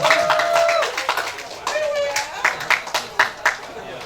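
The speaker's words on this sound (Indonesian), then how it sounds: "kasih tepuk tangan buat Ibu Ariska" Audience clapping for a guest arriving at a school talk show, brisk uneven claps from a modest crowd with voices over them, thinning into a few separate claps near the end.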